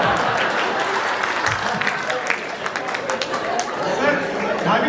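Audience applause at a Hindi comedy poetry show in Jamshedpur, a dense, steady wash of clapping from a sizable crowd with murmuring voices mixed in, sustained throughout.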